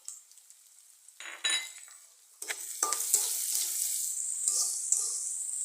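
Onions, chillies and spices fry in a pan with a bright, close sizzle, broken by scraping stirring strokes and light utensil clinks, then settling into a continuous crackle.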